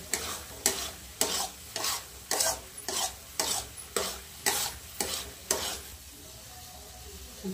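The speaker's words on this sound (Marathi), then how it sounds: "त्याच्यात सतत हलवत राहायचं." A thick homemade sweet mixture for Raksha Bandhan is stirred steadily in a pan, with regular scraping strokes about twice a second and a soft sizzle between them, close and clear.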